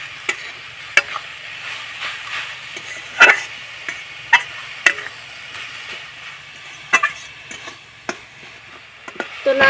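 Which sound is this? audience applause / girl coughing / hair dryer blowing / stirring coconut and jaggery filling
stirring coconut and jaggery filling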